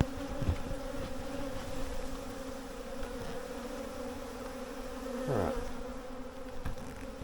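Honey bee swarm near a hive box in the open air, a steady dense buzzing hum that stays constant throughout, with individual bees passing close by now and then; a voice speaks a single word.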